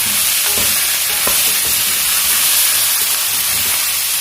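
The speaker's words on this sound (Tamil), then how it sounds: "இப்ப நல்லா ஒரு கிளறி கொடுங்க." Beetroot frying in a pan while being stirred: a loud, dense hiss of sizzling throughout, with a few utensil knocks and scrapes early on.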